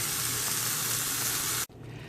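Mushrooms fry with A1 steak sauce in a pan, a bright steady sizzle close by that cuts off abruptly near the end, leaving a quieter hiss.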